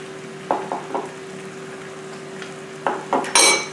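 Nasi goreng fried rice being stirred with two sauces in a hot pan, a few scattered scraping strokes over a steady low hum, then a louder burst of sizzle at the end, close, no talk.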